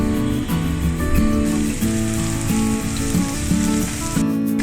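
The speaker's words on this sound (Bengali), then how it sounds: "আমি পেঁয়াজগুলো দিয়ে ভেজে নেব।" Onions frying in oil in a hot pot give a steady sizzle throughout, with background music playing over it.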